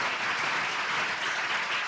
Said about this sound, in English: Give me a round of applause that I can still speak.